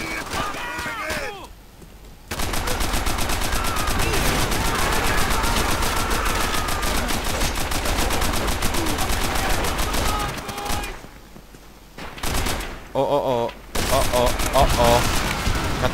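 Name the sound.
gunfire in the video game Call of Duty: World at War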